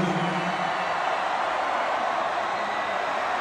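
A large concert crowd at an arena show in Miami roars and cheers in a dense, continuous wash of noise that stays loud and steady throughout.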